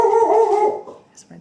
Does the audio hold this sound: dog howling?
yes